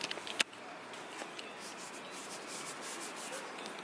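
Dry, gritty rubbing over rough paint overspray on a Honda Civic hood, a continuous scratchy hiss with a sharp scrape near the start, faint and close with no talk.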